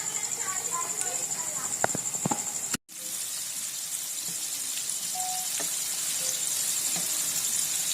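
Chicken popcorn tender pops deep-frying in hot oil give off a steady sizzle with scattered crackles and pops. The sound breaks off briefly near the middle, then the continuous frying hiss resumes at moderate loudness.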